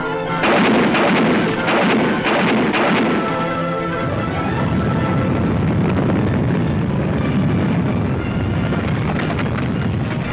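Heavy anti-aircraft guns fire at flying bombs over a wartime supply base at Antwerp, a loud run of rapid booming shots followed by a sustained rumbling roar of continued barrage.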